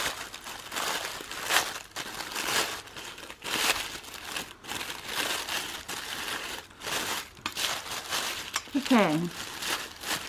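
Tissue paper from a Dollarama flower kit crinkles and rustles in repeated bursts as a paper flower is fluffed up by hand, with a voice speaking briefly.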